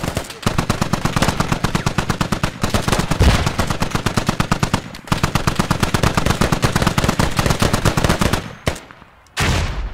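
Sustained automatic gunfire in the military shooter game Squad, dense rapid bursts of loud close shots with short gaps that thin out and stop near the end.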